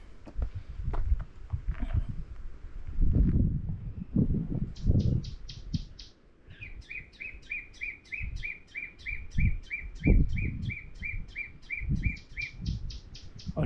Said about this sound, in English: Already hearing some birds that I'm unfamiliar with.